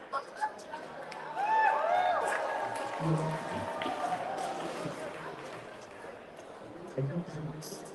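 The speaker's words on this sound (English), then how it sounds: "The crowd finally makes some noise, everybody" A crowd at a boxing weigh-in for Gallo Estrada and Bam Rodriguez makes noise, a swelling roar of cheers and shouts with a voice speaking over it that thins toward the end.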